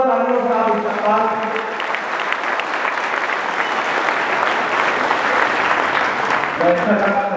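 Loud sustained audience applause at a mushaira in Mysore, Karnataka, a dense wash of clapping that swells and holds, with a voice speaking over the start and end.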